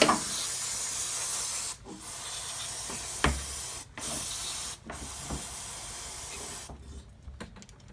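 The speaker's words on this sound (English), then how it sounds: "I'm just going to spray the carburetor itself off a little bit." Long hissing bursts of aerosol spray cleaning a carburetor, several pulses separated by short pauses, close and steady, with faint clicks between them.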